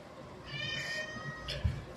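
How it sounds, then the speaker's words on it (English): A domestic cat meows a couple of times, with harmonic cries in the middle and a shorter one near the end, fairly close over a quiet indoor room background. "Damn cat."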